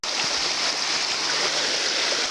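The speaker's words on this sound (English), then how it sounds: "The creek diverted onto the path onto the trail here." Creek water pours across a hiking trail in a canyon, where the stream has spilled off its course onto the path, giving a steady, close rushing wash with no break and no voices.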